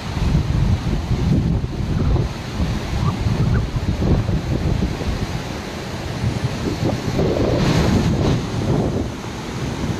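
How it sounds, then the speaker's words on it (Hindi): The swollen Sutlej river rushes after extra water is released from the Karcham dam, a loud continuous roar of churning water with heavy wind buffeting the microphone. "करछम से अतिरिक्त पानी को छोड़ा गया है।"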